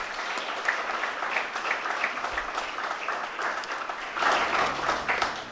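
Audience applause at a PGDM batch inauguration event, steady dense clapping throughout with a brief swell near the end, no talk.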